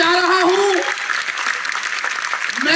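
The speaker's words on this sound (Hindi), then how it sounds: "जोरदार ताली।" A large Indian business-seminar crowd breaks into loud, dense clapping that swells at the start and carries on vigorously, while a voice rings out over the applause.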